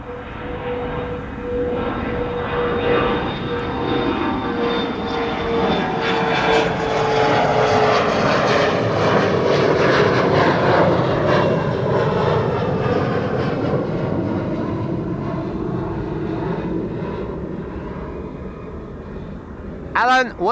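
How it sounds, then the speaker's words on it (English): A Bombardier CRJ900 long-range jet departs Schiphol, its roar building to a loud peak with a falling whine as it passes, then fading; a short burst of sound cuts in at the very end. "Now this is CRJ 900 long range."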